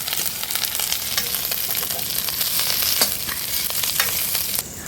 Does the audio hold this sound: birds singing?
no